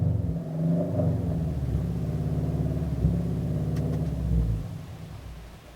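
A car engine drones and rumbles steadily at high revs, close and loud, with slight surges before easing off near the end.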